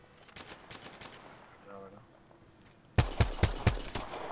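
Video game gunfire: faint distant shots at first, then a loud close burst of four or five sharp, heavy reports in quick succession near the end.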